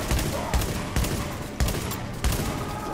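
Rapid video game gunfire fills the whole stretch, a steady crackling barrage of shots with heavier bursts recurring about every half second to second, loud and close, with a voice faintly mixed in.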